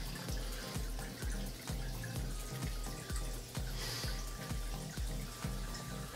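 Reverse-osmosis water runs steadily over Rowa Phos phosphate-removing media as it is rinsed clean, a continuous faucet-like splashing stream with regular low thumping pulses through it, close and fairly loud with no talking.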